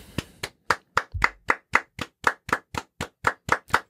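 A single person clapping about fifteen sharp, evenly spaced claps, close and clear against silence.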